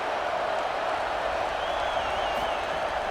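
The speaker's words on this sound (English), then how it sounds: "Decibels rising as the crowd gets behind this defense on third down" A steady, dense roar from a stadium crowd in a college football video game, rising behind the defense on third down, a constant wash of cheering with faint tonal whistling over it.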